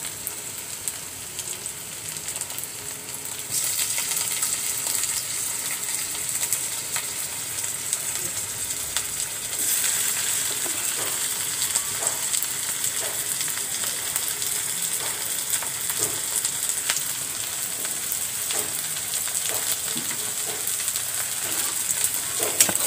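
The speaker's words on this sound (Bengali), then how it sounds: "চিংড়ি মাছগুলো একটু আমি তেলে ভেজে নেব।" Prawns frying in hot oil, a steady broadband sizzle that rises sharply a few seconds in and holds loud and continuous, with small crackles and pops throughout and no talking.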